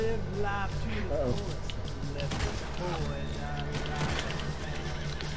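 A horse in Red Dead Redemption 2 gives several loud whinnies over clip-clopping hooves, while players talk over the action.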